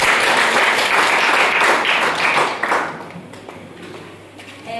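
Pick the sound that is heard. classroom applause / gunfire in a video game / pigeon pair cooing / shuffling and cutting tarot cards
classroom applause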